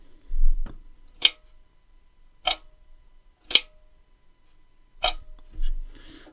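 A Tower box camera's shutter clicks four times at spaced intervals, sharp and close in a quiet room, with soft handling bumps between some of the clicks.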